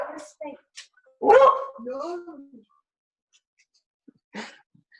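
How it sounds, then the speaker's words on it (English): A pet dog indoors gives a few short barks and yips, with a louder whining bark in the middle, sparse and close, while someone talks nearby. "dog might want his dinner."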